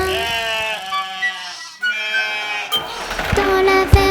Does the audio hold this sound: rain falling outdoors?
no